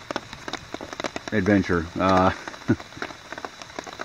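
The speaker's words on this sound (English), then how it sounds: "it's not raining very hard, it's raining hard enough that we've accumulated some water along the drip edge" Rain falls steadily on a tent at a woodland campsite, a soft pattering hiss with scattered drips, while a person talks close by through the middle.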